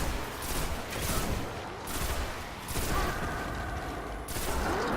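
Parthian Shot pulse rifle firing in Destiny, heard as short rapid bursts of shots repeating at intervals with brief gaps, moderately loud over game ambience, with no voice.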